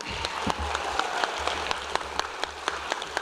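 A crowd applauds at a high school and adult education commencement ceremony, steady distant clapping with scattered sharper claps throughout, moderately loud and continuous.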